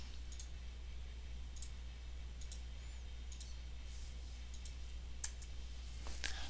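Computer mouse clicking while selecting circles in CAD software, a series of faint, crisp single and double clicks spaced irregularly over a quiet steady hum.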